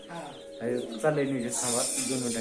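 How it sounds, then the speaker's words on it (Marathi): Young village chicks of a native free-range hen breed cheep in quick, high, thin chirps close by, overlapping a voice in a farmyard setting. "कशी चिव चिव चिव चिव"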